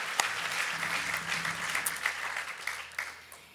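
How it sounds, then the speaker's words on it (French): Concert audience applauding loudly and steadily in a hall, a dense wash of clapping that holds for several seconds, with a low sustained musical tone underneath. "On peut applaudir très fort."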